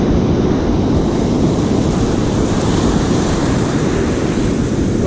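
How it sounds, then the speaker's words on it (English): Steady roar of sea surf rolling onto the sandy beach at Lessingham and Sea Palling on the Norfolk coast, continuous and fairly loud, with wind buffeting the microphone and no voices. "Got nice rolling waves."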